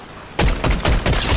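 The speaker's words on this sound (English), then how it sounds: "I still hear gunshots." Rapid bursts of Fortnite gunfire erupt after a brief quiet moment, loud and repeated in quick succession like an automatic weapon.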